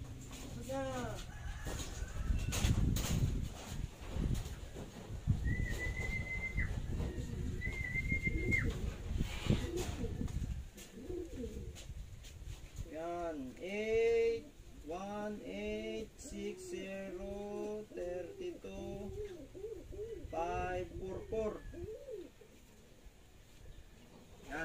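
Racing pigeons arriving at a loft after a 283 km derby race coo in repeated soft rising calls, with louder handling noise and talking early on and the cooing clearer later.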